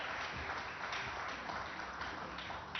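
An audience at a corporate summit and awards event applauds a guest being welcomed on stage, continuous, even clapping heard from a distance at low level, with little else over it.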